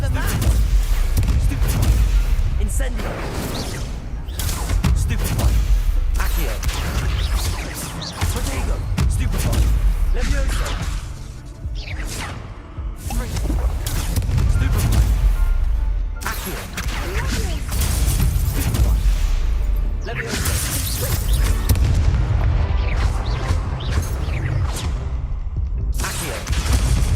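Spell blasts from the video game Hogwarts Legacy: a dense, continuous barrage of booming impacts, whooshes and crackling bursts layered over a swelling orchestral score, loud throughout, with voices calling out between the spells.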